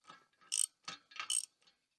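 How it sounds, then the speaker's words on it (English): A 3/4 inch socket and ratchet tightening bolts that join a steel target base plate to its pedestal, giving a few short, bright ratcheting bursts close by, with brief pauses between them and no talk. "I went ahead and got a 3/4 inch socket and ratchet."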